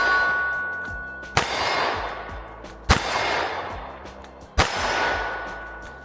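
MC9 Prime pistol rounds striking a steel target plate: three distinct metallic clangs, each ringing out and fading, spaced about a second and a half apart with a soft background in between.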